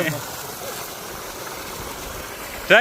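A five-horsepower borewell motor pumps water that rises about 15 feet. Its flow makes a steady, rushing wash, and a brief voice cuts in at the very end.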